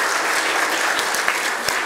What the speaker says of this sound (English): Let's give a round of applause for our experts.